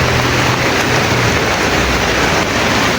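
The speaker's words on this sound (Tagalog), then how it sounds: "lakas ng ulan." Heavy rain pouring down in Baguio in a continuous loud hiss, with no voices.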